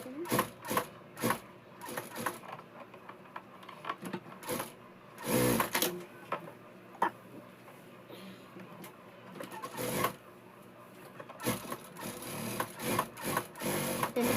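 A sewing machine stitching a Punjabi dress: bursts of rapid mechanical clatter that start and stop in short runs, with sharper knocks between them, close and under a speaking voice.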